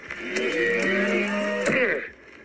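Cattle mooing in an animated Simpsons educational film: one long, loud, drawn-out low moo that holds steady for about two seconds, then bends and fades, with no speech over it.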